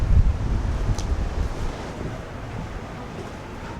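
Wind gusts across a waterfront on a spring day in New Zealand, buffeting the microphone as a loud, steady low rumble that eases slightly toward the end, with no one talking.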